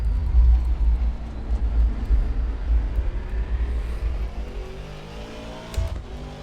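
Race car engine in Assetto Corsa Competizione bogging under high traction control on corner exit, a low rough rumble that stutters and then slowly rises in pitch as the car gathers speed onto the straight.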